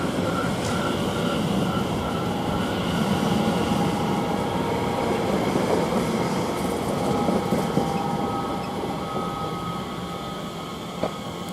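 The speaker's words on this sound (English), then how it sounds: "I think we've got another train going here, I do believe, I can hear it" Greater Anglia class 720 electric train passing through Shenfield station: a steady, fairly loud rumble and rolling hum that holds for the whole stretch, with a faint clank near the end.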